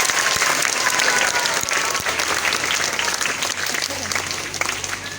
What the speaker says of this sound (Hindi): आपने क्लैपिंग जोरदार सी करनी है